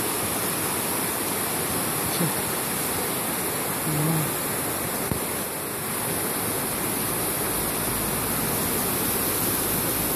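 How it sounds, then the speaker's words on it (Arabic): Two large rivers, one dark and one light, flowing side by side where they meet without mixing, give a steady, broad rushing of water that holds evenly throughout, heard alone with no talk. "هذاك النهر اسود وهذا النهر ابيض. لا يتداخلن ولا يتداخل."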